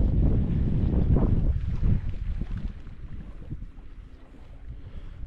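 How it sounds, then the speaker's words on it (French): Wind on a desert island roars and buffets against the microphone in loud, gusty rushes that ease off toward the end, with no voices. "il fait 14 degrés avec un vent à 10 km/h"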